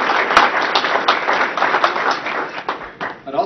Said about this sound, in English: We have a round of applause for Purveya sponsoring our organization today